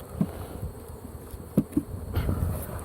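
Honey bees buzz and hum softly at close range at an open hive, with a few louder thuds and knocks breaking through the low drone.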